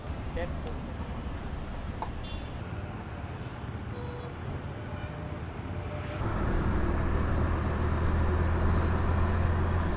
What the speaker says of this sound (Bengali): বিজয় সরণির এই রাস্তাটা সবসময় জ্যাম থাকে।